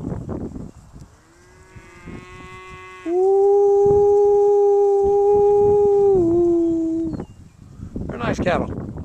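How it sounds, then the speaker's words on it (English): A black cow gives a long, loud bellowing moo that rises and holds for several seconds, with rustling outdoor noise and wind before and after. "Cattle."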